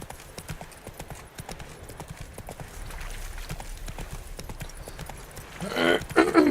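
Roach the horse clip-clops at a steady trotting rhythm in The Witcher 3, hoofbeats close and clear over a soft ambient bed, with a louder rustling burst near the end.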